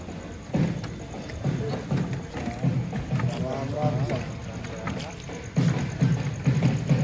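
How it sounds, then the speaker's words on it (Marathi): A boatman rows a small boat with oars across a large lake, giving soft rhythmic splashes and wooden creaks against a breezy background while people talk nearby. "पाठीमागे काका बसलेले आहे नावाडी, वल्ले मारून आपले बोट"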